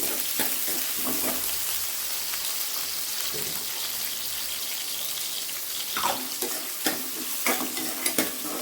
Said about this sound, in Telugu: ఈ ఆనియన్ మంచిగా ఫ్రై అయిన దాకా ఫ్రై చేసుకోవాలి